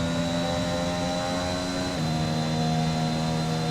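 A Formula 1 car engine held at full throttle in the F1 2021 video game, a loud continuous high-pitched whine with a single gear-shift drop in pitch midway, alone without talk.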